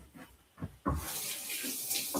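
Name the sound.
washing hands under running tap water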